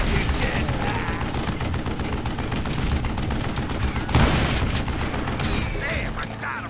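Rapid gunfire in the Western shooter Call of Juarez Gunslinger, a steady run of loud shots and bursts with one heavier blast near the end, mixed with in-game voices.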